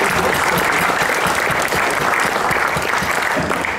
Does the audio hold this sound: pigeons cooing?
no